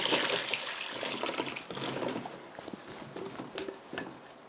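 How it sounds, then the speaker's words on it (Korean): Water drains out of salted radish poured into a strainer, with a burst of splashing and trickling up front that eases into lighter drips and wet jostling, close by with no talk. "이제 이 물기를 쭉 채반을 이용해서 빼주겠습니다."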